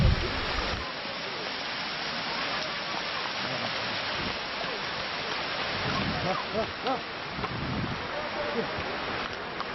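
A mountain stream tumbles down as a small waterfall along the Amarnath pilgrimage route, a steady rushing roar heard close up, with voices talking over it.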